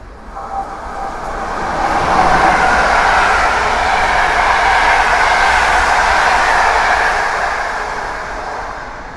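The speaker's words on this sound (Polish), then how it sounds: "ED72103 Kolejna stara lokomotywa Intercity Łodzianin." An old ED72 Intercity locomotive-hauled train passes near Warszawa Włochy station, a broad rushing rumble that swells, holds steady for several seconds, then begins to fade, with no speech.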